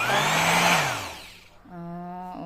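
A new Reaim electric sander switches on with a loud whirring hum that spins down, then restarts with a steady tonal motor drone, close by and with no talk over it.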